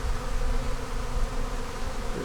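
Honey bees buzz around an open backyard hive, a dense, continuous droning hum that stays close and loud throughout without any talk.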